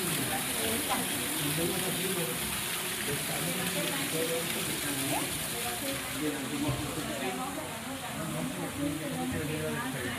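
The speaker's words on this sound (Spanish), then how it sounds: "Ahorita que llovió, por eso se siente más el agua, hasta se escucha." Steady rushing of running water after rain in Xalapa fills the scene, a continuous broad wash, with a voice speaking over it.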